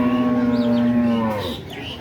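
At a traditional cattle market in Shahjadpur, Sirajganj, a cow lets out one long, loud, close moo that trails off, with faint market noise behind it.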